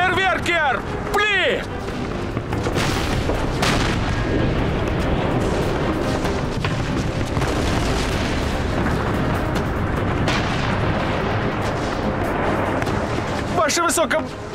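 Artillery battery cannons firing in a Napoleonic-era war battle scene, a sustained roar of booming blasts and rumbling explosions that fills the scene, with shouted voices at the start and end.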